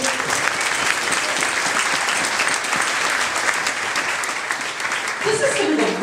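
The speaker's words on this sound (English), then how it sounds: "This is going to go really long if you clap after every slide." An audience at a Tour for Kids speaker session about a children's camp applauds, a dense, even wash of clapping that continues steadily for several seconds.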